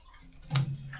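Water tipped out through the bottom of a rusty 1999 Suzuki GSX-R600 motorcycle fuel tank, a quiet brief splash and gurgle that swells for a moment then trails off.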